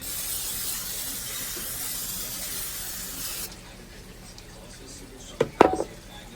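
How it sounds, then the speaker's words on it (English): A steady broadband hiss of aerosol cooking spray on a cooking rack runs for several seconds, then stops, followed by a few brief clattering knocks. "And I'm going to spray this rack."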